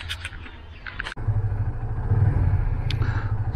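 After a sharp click, a motorcycle's low, steady engine rumble sets in, heard up close from a rider wearing an MT Targo Pro helmet, continuing evenly without talk.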